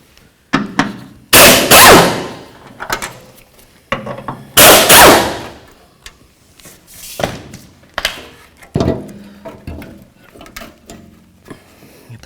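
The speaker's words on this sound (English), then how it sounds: "we're going to take out our skid plate shield bolts here" A ratchet or impact tool works 12mm skid plate shield bolts loose underneath a Toyota 4Runner, with two loud whirring bursts followed by lighter clicks and clanks of tool handling, close by.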